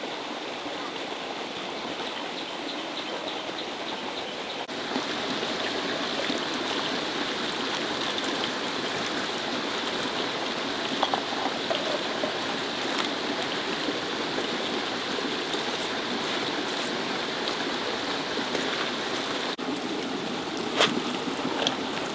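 Heavy rain pours steadily at a rural home, a dense, constant hiss of water lasting throughout with occasional louder drips and splashes, no talking over it.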